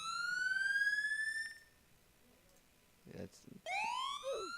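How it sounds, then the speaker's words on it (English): A Roblox alarm wails in two rising siren-like sweeps, loud and close, with a lull between them where someone talks over quiet game noise. "Over here is the one that sounds the alarm."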